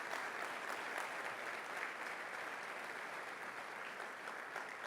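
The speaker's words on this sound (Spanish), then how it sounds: "Dale fuerte ese aplauso al Señor." A church congregation applauds steadily, a dense, even wash of many hands clapping at a distance, sustained without pause and with no voices standing out.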